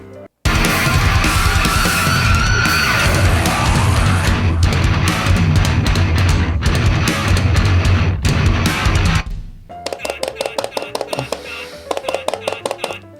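Loud, dense distorted guitars and pounding drums play continuously, then drop to a sparser, choppy rhythmic section near the end.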